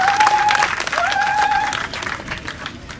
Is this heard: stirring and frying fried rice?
no